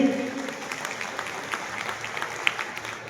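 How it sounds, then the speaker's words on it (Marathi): Audience clapping at a prize distribution ceremony for a state-level drawing competition, a steady rattle of many hands in an indoor hall, moderately loud and continuous throughout. "टाळ्या वाजूयात"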